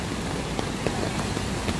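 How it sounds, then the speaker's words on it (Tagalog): Heavy rain falls on a slippery road trip toward a waterfall in Laguna, a steady close hiss of drops with a few sharper patters and no talk. "Medyo madulas, malakas ang ulan."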